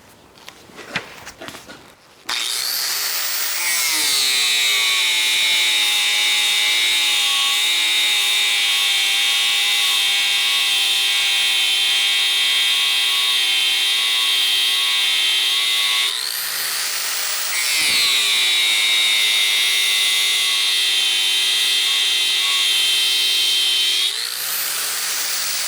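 An angle grinder whines steadily while grinding down stainless steel weld beads, loud and close. Its pitch dips and recovers twice as the disc bites into the metal, with a brief clatter of handling at the start and no voices.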